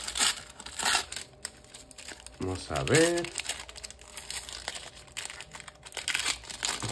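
Close crinkling and tearing of paper wrapping while a trading card pack is opened, in irregular bursts with a short squeak in the middle, and a person talks briefly.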